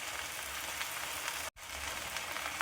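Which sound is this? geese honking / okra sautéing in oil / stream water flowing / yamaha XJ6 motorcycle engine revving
okra sautéing in oil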